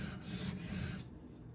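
Karaku AS Gyuto 210 mm knife laid flat on its bevel and swiped across a sharpening stone, a short close grinding rasp of two or three strokes, fairly loud and fading near the end, with no voices.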